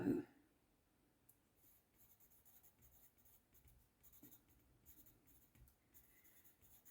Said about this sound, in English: I will literally pencil it in.